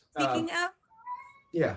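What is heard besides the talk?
Bengal cat meowing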